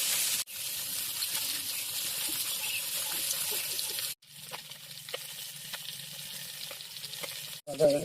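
Four bata fish fry crisp in hot oil, first a loud, dense, steady hiss, then a quieter bubbling with scattered crackles and pops.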